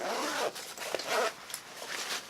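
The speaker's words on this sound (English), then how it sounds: "So it's just got a zipper up here." A backpack zipper pulled open in a few quick rasping strokes, close by and fairly loud, with brief pauses between pulls.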